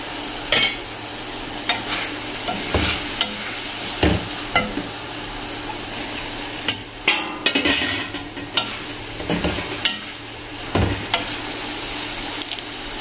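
Shredded cabbage and carrot sizzle in a pan while being stirred, with a continuous frying hiss broken by repeated scraping strokes and soft clinks of a utensil against the pan, up close and with no talking.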